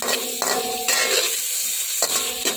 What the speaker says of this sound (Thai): ใส่ผงปรุงรสลงไปนิดนึง แล้วก็ผัดให้เข้ากันนะคะ